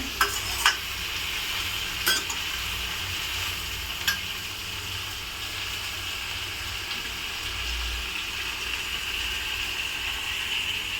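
Palak spinach sautéing in a pan gives a steady, even sizzle throughout, with a few faint clicks of a utensil against the pan early on and a low background rumble, close and moderately quiet.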